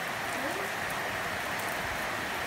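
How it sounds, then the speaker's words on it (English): Heavy rain falls steadily during a rainy day, a constant dense hiss of drops with no break and no talk. "It's really raining."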